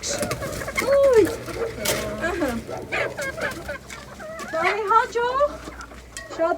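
Hens cluck and squawk close by in a farmyard, with rising calls and rapid bursts of clucking, while someone talks to them over the birds.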